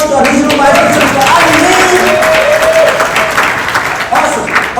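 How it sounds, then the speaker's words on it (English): Audience applauds for a regional vice president at a company event, a dense, steady wash of clapping that holds strong for about five seconds, with faint voices mixed in. "Can we give a round of applause to our regional vice president?"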